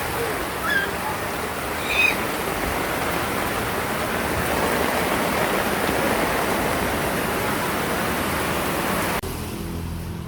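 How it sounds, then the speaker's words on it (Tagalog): Loud, steady rush of flood water after heavy rain in front of a house, a constant roar like a strong current, with a couple of faint distant sounds early on. "So ayan yung baha dito sa harap ng bahay."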